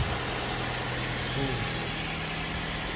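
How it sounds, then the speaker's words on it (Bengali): A 2019 Toyota Yaris engine idles steadily at close range, a smooth continuous hum with no clear start-up moment heard. "এই দেখেন এই গাড়িটা স্টার্ট দিচ্ছে"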